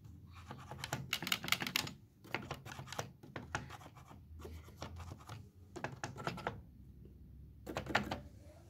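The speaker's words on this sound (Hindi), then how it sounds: "मैं आपको हल्का सा चाबी क्लिक करके दिखा" Harmonium keys, with white keys recently refitted using a nylon or plastic sheet, click in quick irregular bursts separated by short pauses, close and fairly soft with no talking.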